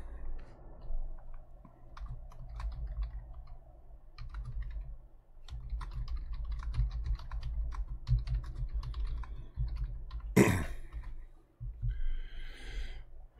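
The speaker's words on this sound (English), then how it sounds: "I got to finish typing a note here." Keys clack steadily on a computer keyboard as a note is typed, a dense run of close, crisp clicks with soft breathing between strokes and one sharper burst near the end.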